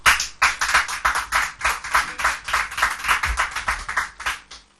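A studio audience on the TV game show Un Mot Un Prix claps in a brisk, even burst of applause lasting several seconds, loud and close, then stops abruptly.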